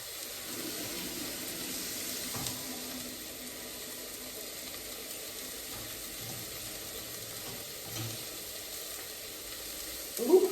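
Chopped onion frying in a pan gives off a soft, steady sizzling hiss that runs unbroken, ending in a short clink of utensils.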